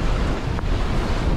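Open sea near the Icelandic coast heard from a sailing boat, a continuous loud wash of waves mixed with heavy wind buffeting the microphone, with no voices.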